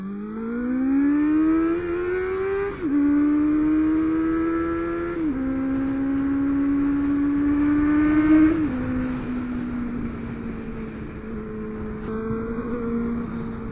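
A Honda CB400 SF Revo four-cylinder motorcycle heard while riding, its engine winding up through the revs in long whining pulls with clear drops at each gear change, loud and close with steady road noise.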